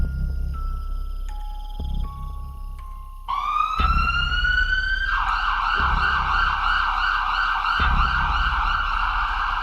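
A cartoon ambulance siren wails loud and close, stepping through rising electronic tones before settling into a steady, repeating warble with a low pulsing beat beneath it.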